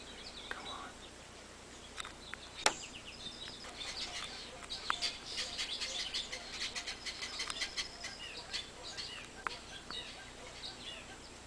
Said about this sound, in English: And all kinds of chirping birds.